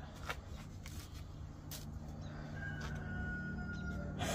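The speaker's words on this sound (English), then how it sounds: "Yeah, I heard a rooster." A rooster crows at a distance, faint and drawn out, heard outdoors near a storage container unit against low background noise.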